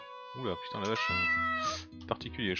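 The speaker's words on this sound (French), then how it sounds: "Ah, c'est pas un clébard, c'est un chat." Cartoonish cat meows from the video game Let's Hatch! Game Over Quest, several rising tonal mews in quick succession, with someone talking briefly over them.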